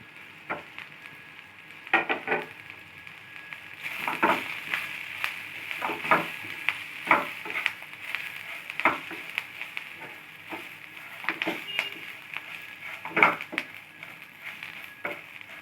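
Drumstick leaves frying with onions in a pan over a medium flame, a steady sizzle broken by repeated close stirring scrapes and clinks through the whole stretch, with no talk.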